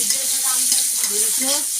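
Onions and spices frying in a pan while a fish curry is cooked, a steady bright sizzle with scraping stir strokes, close and continuous, and no talk.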